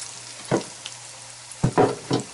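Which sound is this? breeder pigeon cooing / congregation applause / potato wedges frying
potato wedges frying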